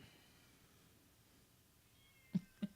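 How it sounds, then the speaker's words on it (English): Two short cat meows, faint and distant as if from outdoors, coming near the end after a stretch of quiet background. "Yeah, I hear a cat."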